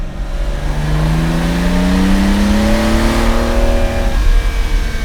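A Lamborghini Miura S engine revs up smoothly to about 4,000 to 4,500 rpm, its pitch climbing steadily over several seconds with a loud, close rumble before easing off.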